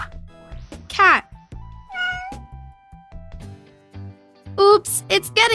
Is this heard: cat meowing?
yes